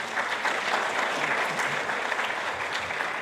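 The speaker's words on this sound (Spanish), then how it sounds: "Recibámosle con fuertes aplausos." Steady, dense applause fills a church Bible seminar hall as a pastor is welcomed, a full crowd clapping continuously throughout.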